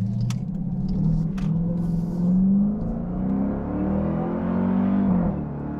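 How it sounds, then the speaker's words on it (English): A Dodge Durango Hellcat accelerates hard on a wet road, its engine roaring loudly and rising in pitch through gear changes, heard close from inside with a few brief clicks. "we'll still be able to get some, I think, pretty impressive accelerations"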